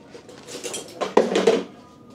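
Utensils clatter and scrape against a bowl while marinating pork is mixed, a short burst of light clinks and rustling that peaks briefly in the middle and then fades.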